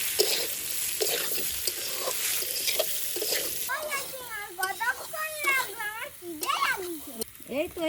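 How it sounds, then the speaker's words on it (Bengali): Boiled potato and taro fry in a pan with a steady, close sizzle and intermittent scraping stirs, while children's voices chatter over the later part. "এবার সিদ্ধ করা আলু আর কচু ভেজে নিচ্ছি।"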